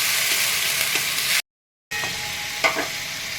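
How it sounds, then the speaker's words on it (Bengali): Ginger, garlic and green chili paste fry in a pan with a bright, close sizzle, cut by a brief gap, then a couple of stirring scrapes, with no one talking. "এবার আমি আদা আর রসুন বাটা দিয়ে দিলাম, তার সাথে কাঁচা লঙ্কা বাটা ওটার সাথে।"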